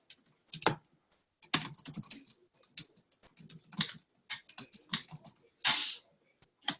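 Keys clatter on a computer keyboard in uneven bursts of quick taps with short pauses between, close and clear, with no voices.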